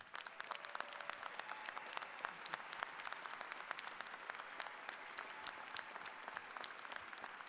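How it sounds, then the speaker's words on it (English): Graduates at a dentistry school commencement ceremony are congratulated with applause, a quiet, distant spread of many individual claps forming a steady, crisp patter across the whole stretch. "join in a round of applause to congratulate the class of 2026"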